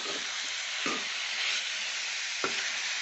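Chicken sautéing in a wok for a stew, with a steady loud sizzle throughout and a few sharp scraping stirs of the utensil, no talking.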